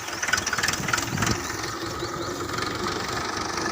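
A tractor engine runs nearby with a throbbing, knocking diesel chug, loud and steady, with a slightly faster pulsing in the first second and a continuous rumble afterward.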